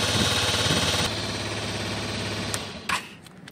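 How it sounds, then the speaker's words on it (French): A BMW C1 scooter engine idles with a steady, low buzzing hum close by, then cuts off near the end, followed by a couple of sharp mechanical clicks. "Un joli son, assez diffus pour ce scooter"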